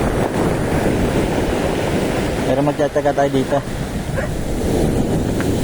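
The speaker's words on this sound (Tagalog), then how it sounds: "malalaki din ang alon" Heavy, continuous roar of large ocean waves and wind on a rocky shore at Mag-asawang Bato, Real, Quezon, Philippines, with someone speaking briefly in the middle over the crashing waves.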